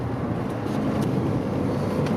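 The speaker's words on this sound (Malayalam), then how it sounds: "ആ ഒരു എഞ്ചിന്റെ നോട്ട് ഉള്ളിലേക്ക് വരുന്ന നോട്ട് ഇങ്ങനെ ഒരു ആ റേവ് ചെയ്യണ സൗണ്ടൊക്കെ നല്ല രസമുണ്ട് കേൾക്കാനായിട്ട്" Volkswagen Polo GT TSI with DSG gearbox, engine running in sports mode: a steady, loud broadband engine roar heard from inside the car, holding even for about two seconds with no clear rev swells.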